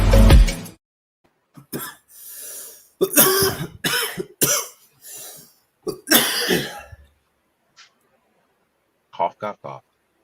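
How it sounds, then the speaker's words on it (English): A person on a casual anime and manga chat show lets out a loud, harsh cough right at the start, followed by stretches of talking and a few short bursts near the end. "Cough."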